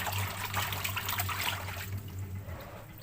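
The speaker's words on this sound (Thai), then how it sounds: "มีวิธีการล้าง ให้ดินออกง่าย ๆ โดยการที่พอน้ำใส่แล้วเราเอาเกลือเนี่ยนะคะ ลงไปในน้ำเลย" Water runs and trickles into a basin for washing wild yellow egg mushrooms (hed lakhok) caked with soil, with salt added, a steady close splashing flow that eases off toward the end.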